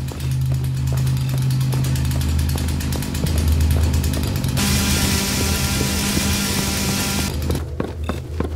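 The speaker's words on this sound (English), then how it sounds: "I have a chainsaw." Chainsaw in the zombie survival game No More Room In Hell, a Half-Life mod, running with a steady loud buzzing drone throughout, shifting to a harsher, brighter rev midway before dropping off near the end.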